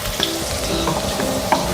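Green beans in a turmeric and chili masala sautéing in a pan, a steady close sizzle with scraping stirs and a few brief spoon clicks, no voices.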